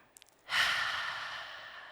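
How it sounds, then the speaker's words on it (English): Several people at a Devoxx Poland 2022 conference talk take a slow, deep breath together during a guided exercise: a soft breathy rush that swells suddenly and then tapers off gently, with no talking over it. "as we take 2 more breaths again"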